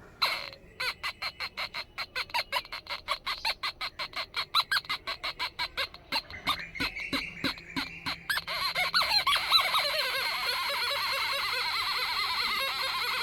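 A hand rubbing over a pencil-drawn line makes a rapid run of rhythmic, chirpy squeaks like a clucking bird. They then merge into a continuous high squeal, close and fairly loud, with no talking.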